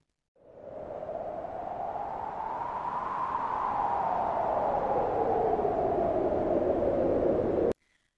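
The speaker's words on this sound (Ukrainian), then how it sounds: "завивання вітру." Howling wind, a single rising and falling moaning whistle over a breathy rush, continuous for several seconds before cutting off abruptly.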